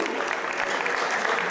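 Audience clapping at an evening magic show held for a charity association in Maubeuge, a brief, even burst of dense applause with no clear voices.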